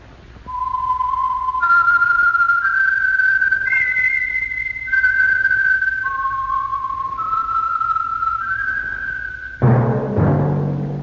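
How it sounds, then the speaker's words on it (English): Someone whistles the slow theme melody of a 1949 radio drama, clear, steady and close, holding long notes before a short burst of other noise at the end. "That whistle is your signal, the Whistler"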